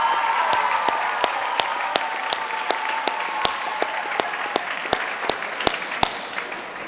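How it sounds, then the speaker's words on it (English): Graduation audience at John J. Duggan Academy applauds the fathers: sustained crowd applause with loud, evenly spaced sharp claps from someone close by standing out over the wash of the hall. "Let's give a round of applause to all the fathers."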